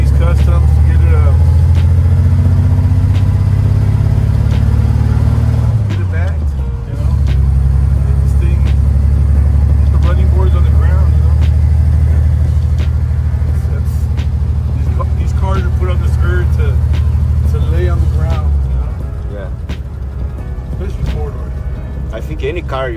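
A 1939 Chevy on the road, its engine a steady low rumble that drops briefly and then resumes, with talk over it throughout.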